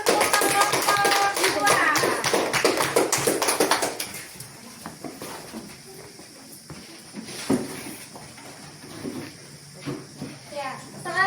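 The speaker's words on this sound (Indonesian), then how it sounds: "Tepuk tangan untuk kelompok" Children in a primary school classroom clap for a student group, a busy burst of nearby clapping for about four seconds, then quieter room sounds with scattered taps and voices.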